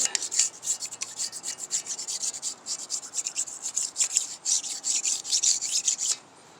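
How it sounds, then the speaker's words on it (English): A cleaned engine block from a Nissan Z32 VG30DETT, stripped by electrolysis, is scraped by hand with a steady run of raspy, rubbing strokes. The scraping is close and continuous, with no speech, and drops away just before the end. "Let's see if you can see me scraping."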